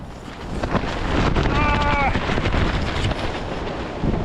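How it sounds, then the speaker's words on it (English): Strong winter wind buffets the microphone outdoors at a fishing spot in harsh conditions, a loud, steady roar and rumble throughout with no speech. "hopefully this wind dies down a bit"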